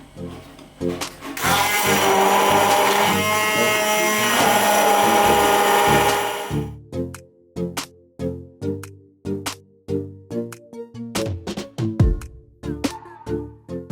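A Cecotec Powerful Titanium 1000 blender whirs steadily at high speed for about six seconds, then stops, followed by a series of sharp rhythmic clicks and knocks of the jar and parts under a strong bass beat.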